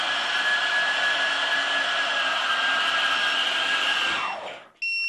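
A DIY thrust-vectoring ducted fan on an ArduPilot tailsitter roars at about 80% throttle, a loud steady whine with a high tonal edge that holds, then drops sharply near the end before a brief high beep.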